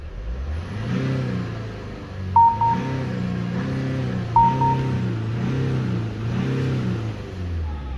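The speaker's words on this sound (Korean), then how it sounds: "엔진 시동 상태 매우 양호. 악셀 두 번." A scrapped Peugeot 508 1.6 diesel engine idles with a rough rattle, then revs in a few rising and falling surges, while two short beeps sound over it.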